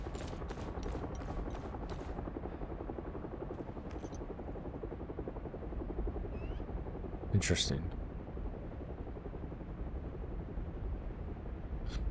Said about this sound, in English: Is that a helicopter right here?